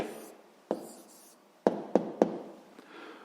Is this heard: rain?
no